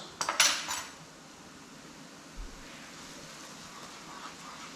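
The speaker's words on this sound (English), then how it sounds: "just give that all a stir around" A utensil stirs cumin and spices into onions in a pan for korma, giving a short metallic clatter at the start and then only faint scraping over a quiet kitchen hiss.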